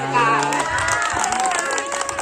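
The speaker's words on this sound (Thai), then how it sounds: "ปรบมือเลยค่ะ" Villagers clap together at a New Year gift-exchange gathering in a rural Thai village, a steady patter of applause mixed with chatter and music from a loudspeaker.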